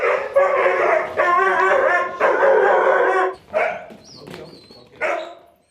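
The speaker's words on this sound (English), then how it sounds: "When we first met Miley, her bark sounded like this." A young dog from a breeder and trainer gives a string of high, thin yelping barks and whimpering howls, several drawn-out bursts followed by shorter yips, loud and close with no other sound around.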